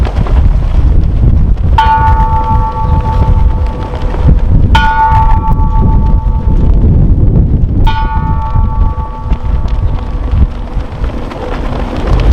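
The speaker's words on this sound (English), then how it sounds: "toll the bell of the Freedom Tower 3 times as a welcoming for everyone to move to the Veterans Memorial footprints" The Freedom Tower memorial bell at the Veterans Memorial Park dedication tolls three times, evenly spaced strikes ringing out over steady wind and outdoor noise.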